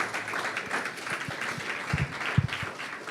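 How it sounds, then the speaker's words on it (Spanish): A church congregation claps in thanks, a thinner scattered applause with a few close, distinct hand claps standing out near the end over a murmur of voices. "Den un aplauso a Dios por la vida de mi hermano que está aquí con nosotros."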